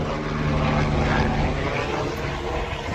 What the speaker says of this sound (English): Guess we got a helicopter going by